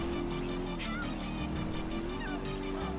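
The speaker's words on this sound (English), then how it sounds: "That's a monster fucking bike you riding" A motorbike engine in the video game Grand Theft Auto V, a steady droning hum running continuously at moderate level with faint squeal-like sounds above it.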